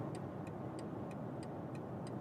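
Turn indicator of a BMW i7 G70 ticking in a steady, regular rhythm of about seven clicks, sharp and close, over a constant low road and cabin rumble.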